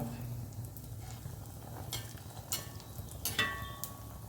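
Steady quiet sizzling of neyyappam batter frying in oil over a medium flame, with a few sharp clinks of a utensil against the pan near the end.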